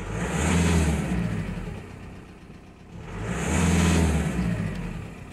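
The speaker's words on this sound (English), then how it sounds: "Let's give it a couple of revs for you." A 2014 VW Crafter 2.0 TDI 163 bhp diesel van with about 100,000 miles revs twice, each blip swelling to a gravelly, droning peak and falling back to a steady idle, close and alone.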